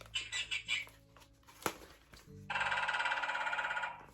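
Electronic toy sounds from a baby sound book play in short bursts: chirpy tones and a ringing jingle, then a sustained buzzy electronic melody, with no talking.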